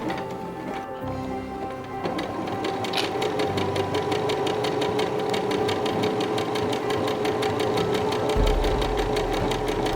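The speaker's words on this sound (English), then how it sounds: "I turned the sewing machine to a zigzag stitch and set that to be a really small width of 1." Close, steady whirring and rapid needle clatter from a sewing machine zigzag stitching fleece, running continuously without pause.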